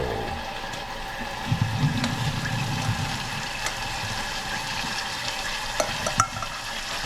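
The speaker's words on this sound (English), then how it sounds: "we're going to strain those off right now" Boiled, fork-tender plantains are strained from the pot, giving a wet, splashing rush of water and liquid that is strongest early and then settles into a lighter, uneven trickle with a few knocks; no talking.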